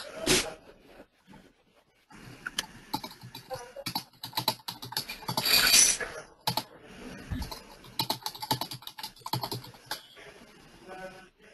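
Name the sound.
typing on a computer keyboard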